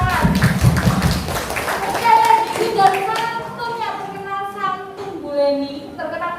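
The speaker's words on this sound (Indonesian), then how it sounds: "Tepuk tangan." Applause at a parenting seminar, with a short burst of clapping from a group, partly children, that quickly gives way to voices talking.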